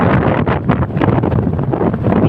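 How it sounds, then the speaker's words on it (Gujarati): Strong wind buffets the microphone outdoors in a Gujarati village setting, loud rough gusts pulsing unevenly throughout at close range with no voices. "પવન આવે છે બહુ મસ્ત."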